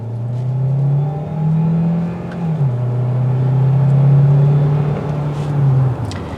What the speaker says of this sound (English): It gets up to speed, and as it gets to a higher RPM, it actually sounds pretty nice.